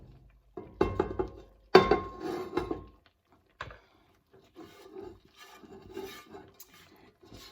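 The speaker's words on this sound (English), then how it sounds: "now I'm just going to put in the carrots and onions that we already cooked" Cooked carrots and onions tipped into a soup pot, with a few sharp clinks of a utensil against the pot followed by softer scraping and plopping sounds, close and fairly quiet.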